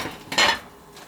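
Dishes are shifted on a kitchen counter, a brief clatter of plates and cutlery with one louder clink in the middle, close by and with no talk.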